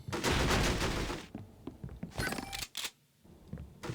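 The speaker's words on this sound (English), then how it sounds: "There was somebody shooting me with something fierce." Gunfire rattles in the 007 From Russia With Love video game: a dense, loud burst of rapid shots for about a second, then scattered sharp cracks and short volleys, a brief silence, and more shots.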